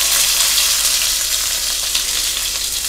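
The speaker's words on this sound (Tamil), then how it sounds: "இதில் கடுகு, பெருங்காயம் தாளிச்சிக்கலாம்" Steady, crackling sizzle of mustard seeds and asafoetida frying in hot oil, close and continuous with no voices.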